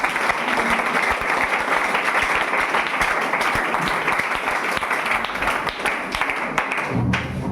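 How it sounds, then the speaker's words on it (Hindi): Loud, dense applause from an audience at a Class 10 boys' mega quiz competition grand final, sustained evenly for several seconds before cutting off abruptly near the end. "मैं संजीत जी चाहूंगा कि इनके जोरदार ताली हो जाए"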